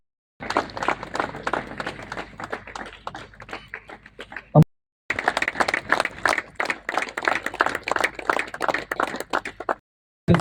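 Hearty crowd applause at a volleyball academy celebration honoring the sport's founder, loud close clapping that runs for several seconds, breaks off briefly, then resumes strongly before stopping, with some voices mixed in.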